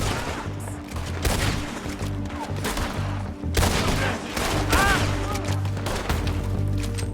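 Gunfire rings out in Red Dead Redemption 2, a loud run of shots and booming blasts repeating across the stretch with music underneath.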